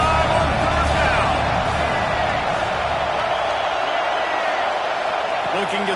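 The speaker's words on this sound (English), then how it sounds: "the Buckeye crowd alive on third down" A large Ohio State Buckeyes home football crowd roars steadily on third down, a dense continuous wash of stadium noise under a broadcast announcer's voice.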